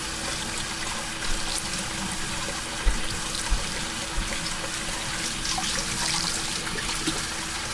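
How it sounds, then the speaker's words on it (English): Tap water runs steadily into a kitchen sink, a continuous close rush with a few small knocks and splashes. "And yes, I know my water is running."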